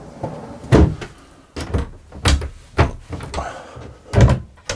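A large drawer under the bed of a Hanse 460 yacht being worked, giving several dull wooden thunks and short sliding knocks at irregular intervals, fairly close, with no talk.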